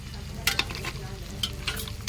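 Chicken being stirred inside a pressure cooker on a gas stove, with scraping spoon strokes and a low sizzling bubble under them, close and moderately quiet, no talking.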